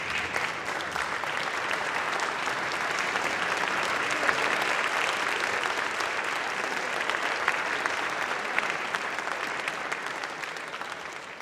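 Congratulatory applause fills a legislative chamber during a state House floor session, a dense, steady clapping from many hands that holds at an even level throughout with no talking over it.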